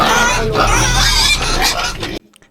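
Pigs grunt and oink loudly at close range in a dense, continuous stretch of noise that cuts off abruptly near the end.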